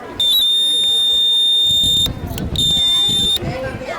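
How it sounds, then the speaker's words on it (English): A buzzer alarm on a school electronics project with an LED, switch and battery gives off a loud, steady high-pitched electronic tone. It sounds twice, with a short break between, over chatter from a busy exhibition hall. "Buzzer sound used for alarm."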